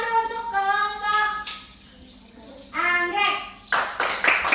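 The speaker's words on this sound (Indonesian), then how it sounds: "Tepuk tangan dulu untuk kelompok" Children in a classroom chant in unison in drawn-out voices, then break into a short burst of clapping for a group near the end.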